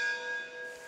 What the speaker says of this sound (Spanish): la campana va a sonar